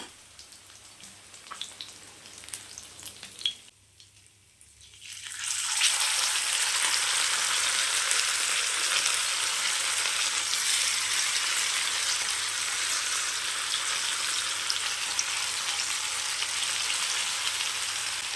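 Fish fries in a pan for a ground-masala fish fry. The first seconds are quiet, with a few small clicks, then a loud, dense, crackling sizzle starts abruptly and runs steadily to the end.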